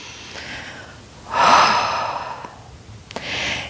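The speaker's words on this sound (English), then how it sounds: "Nice big inhale and exhale." A deep, audible inhale followed by a long breathy exhale during a stretching flow, close and clear against quiet background, with a second breath starting at the end.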